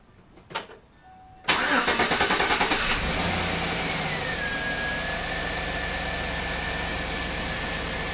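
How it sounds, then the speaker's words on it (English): A Chevy Tahoe with a low oil pressure fault cranks with a rapid chugging starter, catches and fires up, then settles into a steady, loud idle close by. "We'll go and start it, see what happens."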